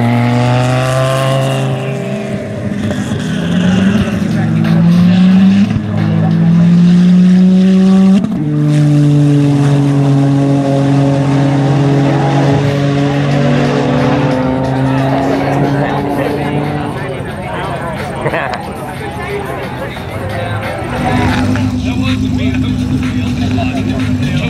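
Porsche race car on a half-mile run, its engine rising through strong revving sweeps and gear changes, loud and close, with people talking over it.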